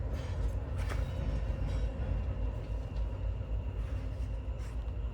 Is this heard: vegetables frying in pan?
no